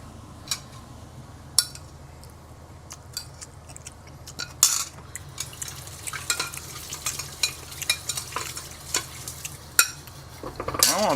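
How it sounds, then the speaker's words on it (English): Eringi mushrooms stir-fried in a pan for breakfast: a low sizzle underneath with irregular scraping and clinking of a utensil against the pan, strokes growing busier and more frequent in the second half. "I want to try stir frying."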